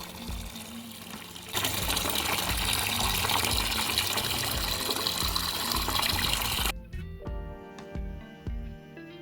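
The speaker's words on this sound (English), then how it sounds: "Then I pour it directly onto the soil around my plants" Strained, diluted bean cooking water pours steadily onto garden soil around leafy plants such as kale, spinach and basil, a continuous close gushing splash that stops abruptly, leaving faint drips.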